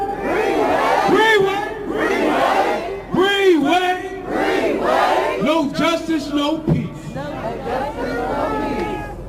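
A crowd at a remembrance ceremony for Breonna Taylor cheers and shouts loudly for a speaker, with voices rising in repeated bursts of yelling and applause over several seconds.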